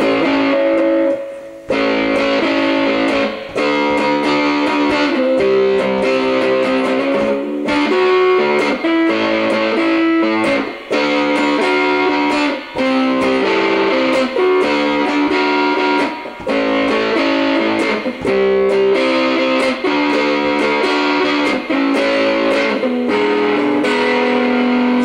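Distorted electric guitar played through a Tub Works Tub Driver overdrive pedal, chugging through a rock song with steady loud strummed chords and riffs that carry on without pause.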